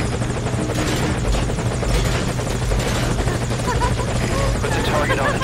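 A military helicopter in Metal Gear Solid V: Ground Zeroes makes a forced landing, its loud, steady rotor chop and engine whine going on throughout, with a voice speaking over the noise.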